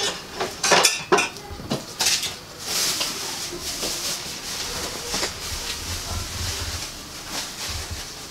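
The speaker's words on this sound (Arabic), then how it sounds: "نحاول دروكا نقطعها على على شكل اصابع رقاق" A knife cuts a no-bake marble cocoa dessert into thin finger strips on a tray, giving a few clicking scrapes and taps early on, then softer rubbing strokes with metal clinks, close and fairly quiet, with no speech.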